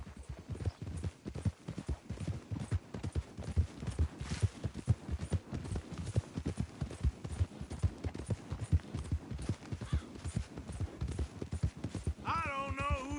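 Hooves pound in a fast, rhythmic clip-clop as a horse gallops during a race in the video game Red Dead Redemption 2, close and steady throughout, with a brief tonal sound near the end.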